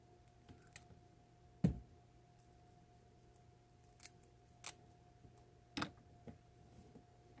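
Scissors snip through a Velcro strip at both ends, giving a few sharp, close clicks spaced apart over a quiet background hum.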